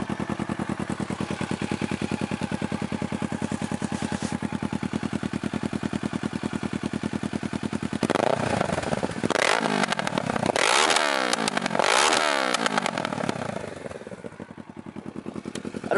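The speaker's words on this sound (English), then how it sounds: "this thing is stupid loud and it backfires a lot" A Kawasaki Z650 with a loud aftermarket exhaust and no baffle idles with a rapid, throbbing pulse, then revs hard several times, crackling and popping with backfires between blips before settling back to a choppy idle; no talk.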